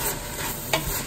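Onions stir-fried in a pan for a ragu sauce give a steady, close sizzle with a light scrape of stirring partway through, no voices.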